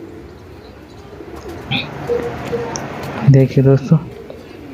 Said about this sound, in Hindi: ये हमारे 8-10 कबूतर आ चुके हैं